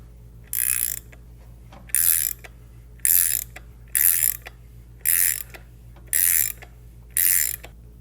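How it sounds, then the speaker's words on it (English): A 3/4 inch ratchet wrench turns a cam bearing installer tool on a Milwaukee-Eight Harley-Davidson Touring engine, giving seven evenly spaced bursts of close, crisp ratcheting over a low steady hum. "Then we'll take the 3/4 inch wrench. I'll start turning this till it bottoms out and the bearing will be in."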